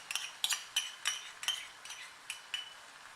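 Schezwan sauce being stirred into paneer bhurji in a pan: a spoon strikes the pan in quick rhythmic metallic clinks, about nine close taps over three seconds, alone and moderately loud.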